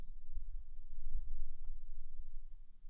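A computer mouse gives two quick, faint clicks close together, set against a quiet, low room hum.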